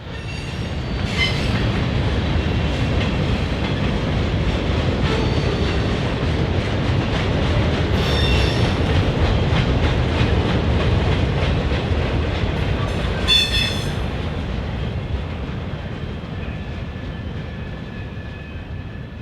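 A BNSF local freight train rolls slowly into Winslow Yard, Arizona, with loud steady wheel rumble, rhythmic clickety-clack, and a few sharp wheel squeals in the middle and near the end.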